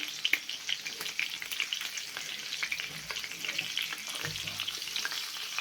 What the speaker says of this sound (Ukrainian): Обжарюємо з двох сторін.